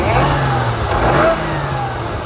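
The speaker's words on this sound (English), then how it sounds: "That's a soft limiter," BMW E92 M3 V8 revving hard and holding against its soft limiter, a loud, steady, close engine drone with slight wavering pitch and no talk.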